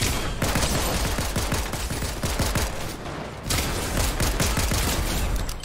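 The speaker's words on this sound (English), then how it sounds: "I'm taking gunfire." Rapid Fortnite gunfire rattles almost nonstop in dense bursts with a brief lull midway, loud and close with no talk over it.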